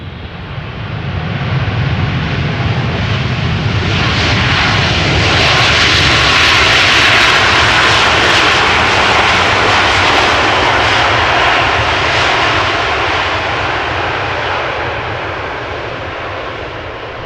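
A China Cargo Airlines cargo plane lands at Amsterdam Schiphol and applies reverse thrust, a loud broadband jet roar swelling over several seconds, peaking, then slowly easing off, heard from nearby without talk.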